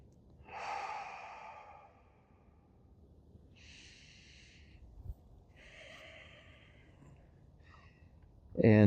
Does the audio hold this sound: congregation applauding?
no